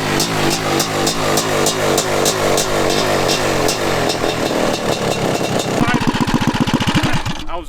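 A worn Honda CR500 two-stroke dirt bike engine idles close and loud with a fast, steady, rough pulsing beat that quickens toward the end, while people talk over it.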